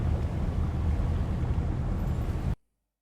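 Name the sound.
fishing boat engine running in Fishing North Atlantic video game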